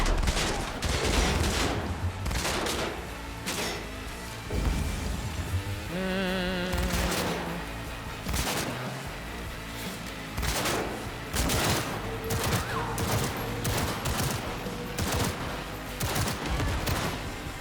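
Rapid gunfire in the video game Cyberpunk 2077, dense repeated shots in quick bursts across the whole stretch, loud and continuous with game effects mixed in.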